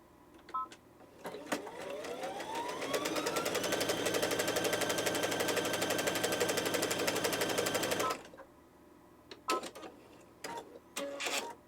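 A BabyLock sewing machine, after a timing adjustment, runs a wide stitch: the motor whirs up, a rapid even needle clatter continues for about six seconds, then stops, followed by a few sharp mechanical clicks.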